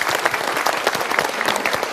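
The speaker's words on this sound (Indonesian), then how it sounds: "Kita berikan tepuk tangan dulu untuk yang B." An audience claps throughout, a dense, lively patter of many hands at a fairly loud level with no pauses.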